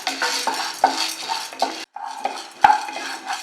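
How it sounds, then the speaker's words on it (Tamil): Toor dal dry-roasted in a pan, with repeated scraping and stirring clatters of a utensil against the pan, irregular and close, with a brief pause midway; no talking. "துவரம்பருப்பு இந்த மாதிரி வறுத்துக்கோங்க"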